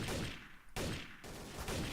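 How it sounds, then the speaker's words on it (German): Gunfire in the multiplayer shooter game Trouble in Terrorist Town comes as a few loud, rapid bursts of shots, close and dense, back to back over two seconds. "Ich hab Schüsse gehört."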